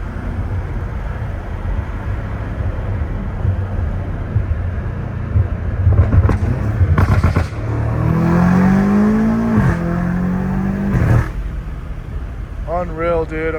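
A straight-piped McLaren 720S engine drones loudly from inside the cabin, with sharp gear-shift cracks and rising revs. Someone talks excitedly over the engine noise.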